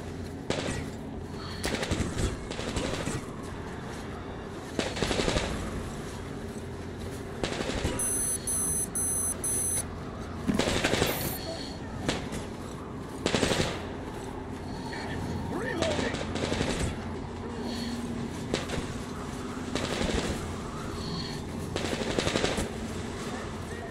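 Metro Exodus firefight gunfire: repeated bursts of automatic shots, loud and near, broken by pauses, with game sounds and a beeping tone between bursts and occasional talk.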